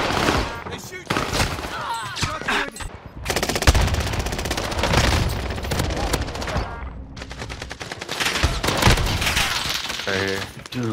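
Gunfire in a first-person video game shooter rattles in rapid automatic bursts and scattered single shots across the whole stretch, with players talking over the shooting.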